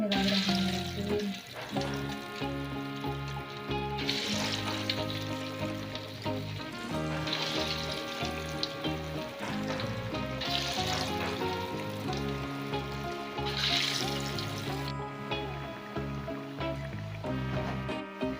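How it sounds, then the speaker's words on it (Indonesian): Cassava snacks called misro fry in hot oil, a steady, dense sizzle and bubbling that carries on throughout, close and even, with no talk over it. "Saatnya menggoreng."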